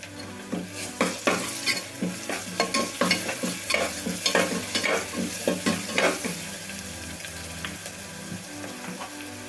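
Chopped onions and ginger garlic paste sizzle in a pan for a bean curry, with a run of brisk spatula scrapes and stirs that slow and fade toward the end. The hiss is close and steady, and no one speaks.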